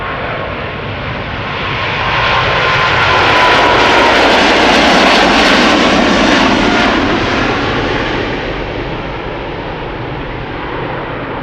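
A KLM Boeing 777-200 jet, about 19 years old, departs Schiphol Airport with a broad, loud engine roar that swells to a peak at mid-clip and then slowly fades as it climbs away, with no talk.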